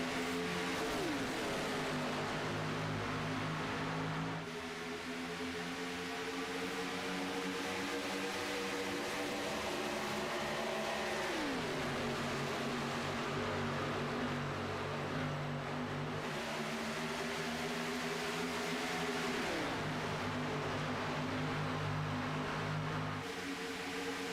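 Stock cars in a superspeedway racing game accelerating from the green flag, a dense, continuous pack of engine drone rising in pitch with repeated gear-change drops, loud and sustained.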